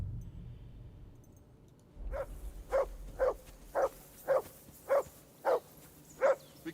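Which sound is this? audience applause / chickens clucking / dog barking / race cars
dog barking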